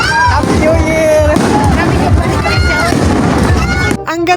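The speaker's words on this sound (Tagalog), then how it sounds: "Ang ganda talaga manood ng fireworks" New Year fireworks at an outdoor display in Milagros, Masbate crackle and boom continuously beneath loud crowd chatter and cheering voices, with a sharp burst of crackling near the end.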